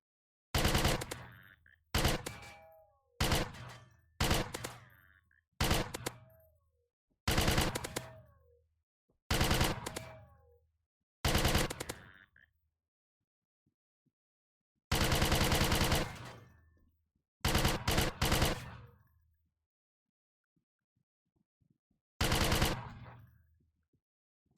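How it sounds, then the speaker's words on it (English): Loud shotgun blasts in a sci-fi video game, about a dozen sharp booming shots fired one after another at a steady pace, each ringing out with a short decaying tail, with a few brief pauses between bursts. "that shotgun is loud"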